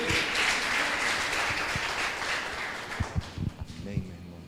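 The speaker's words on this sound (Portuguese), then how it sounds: "Aplauda Jesus Cristo" A church congregation claps during an evening service, a dense round of applause that thins toward the end into scattered louder individual claps, with some voices mixed in.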